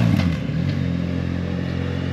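A motorcycle rides past on a gravel path along the Danube, its engine a steady, fairly loud droning hum with a brief louder clatter at the start, heard without talking.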